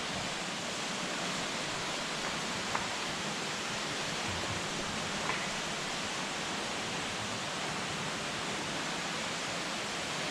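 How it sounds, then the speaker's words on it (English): Water running through a Yorkshire Dales cave, a steady broadband rushing hiss that stays even and continuous with no talk, like a nearby small waterfall. "you can probably hear the water running right now."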